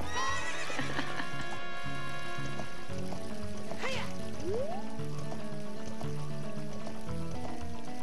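Horse neighing and clip-clopping hooves from the video game Zelda: Ocarina of Time, a whinny rising over steady hoof beats and layered game music, with a brief sliding call partway through.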